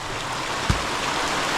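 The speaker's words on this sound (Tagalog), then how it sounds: "Ang lakas ng ulan dito, grabe." Heavy rain pours in a dense, steady hiss with one brief low thump partway through. It is loud and close, with no voices.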